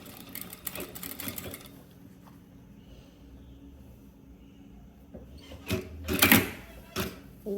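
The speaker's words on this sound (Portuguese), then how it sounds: "Vou colocar aqui e passar toda a costurinha" A sewing machine stitches a seam on a bag lining, with short bursts of fast mechanical whirring and clatter at the start and again near the end, separated by a quieter pause, heard close.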